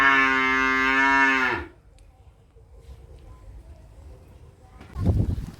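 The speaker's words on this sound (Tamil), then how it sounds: "இது ஒரு மாடு" A cow on a farm beside a home garden lets out one loud, close, drawn-out moo, followed by quiet background rustling and a brief soft thump.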